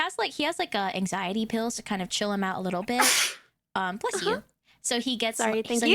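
A single sharp sneeze bursts out in the middle of steady conversational speech, followed by a brief pause before talking resumes.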